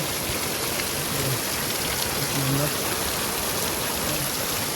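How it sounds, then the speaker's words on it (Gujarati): Steady, dense rain hisses without a break on a farm, close and fairly loud, with a faint voice murmuring briefly underneath. "ફાઇનલી વરસાદ તો આવી ગયો"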